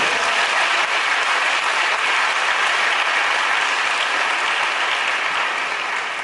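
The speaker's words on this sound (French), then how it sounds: "On l'applaudit très fort, c'est le nom de Dieu." A congregation at a church prayer vigil claps loudly and continuously, a thick, even roar of applause holding steady for over six seconds.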